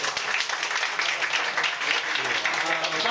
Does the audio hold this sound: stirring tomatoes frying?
no